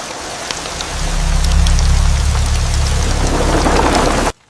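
Heavy rain pours steadily at night as a dense, loud hiss with a low rumble underneath, then cuts off abruptly at the end.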